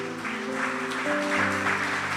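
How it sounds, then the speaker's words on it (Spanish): A church congregation applauds during a worship service, a steady wash of clapping beneath sustained, held musical tones that shift partway through. "Dale un fuerte aplauso al Señor."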